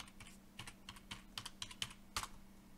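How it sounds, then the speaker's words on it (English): Someone typing a command on a computer keyboard while configuring a Jumper R1 receiver, a short run of quiet, irregular key clicks ending in one sharper keystroke, close with a faint steady hum beneath. "And then we type save."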